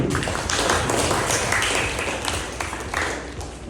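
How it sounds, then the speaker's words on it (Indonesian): Steady applause from a public speaking training audience, dense and continuous clapping filling the room for a few seconds at an even level. "Kita beri tepuk tangan dulu."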